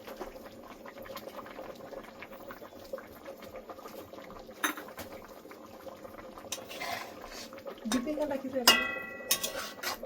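Vegetable and poached egg curry simmers in a pot, a soft continuous bubbling with occasional utensil clinks and a scraping sound near the end.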